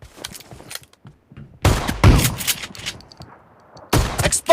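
Gunfire from the mobile battle-royale game PUBG Mobile: a few separate shots and bursts burst out between quiet stretches, loud and close, with a longer volley at the middle and another near the end.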